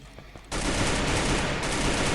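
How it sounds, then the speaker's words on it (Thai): Rapid bursts of automatic gunfire in the video game Free Fire, loud and dense, erupting after a brief quieter moment and continuing without pause. "มันยิงกันครับด้านหน้า"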